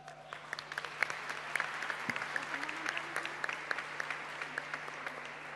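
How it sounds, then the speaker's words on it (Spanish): An audience at a civic dialogue event on the three branches of the state applauds, a modest crowd clapping steadily at a moderate, fairly distant level for several seconds. "quiero pedirles un fuerte aplauso"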